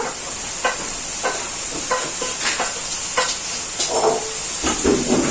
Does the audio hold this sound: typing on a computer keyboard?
no